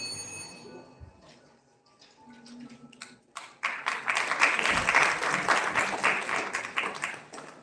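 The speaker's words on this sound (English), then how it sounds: "Let's have a big round of applause for all the participants." An audience at an oratory contest breaks into applause, quiet scattered taps and a faint ringing tone at first, then swelling into dense, sustained clapping that stays fairly loud to the end.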